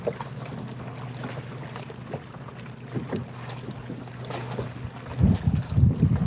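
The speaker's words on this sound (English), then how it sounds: "Wind's picking up." Wind gusts outdoors near a bayou, a steady low rumble of buffeting against the microphone that swells louder toward the end, with faint water and boat sounds in the background.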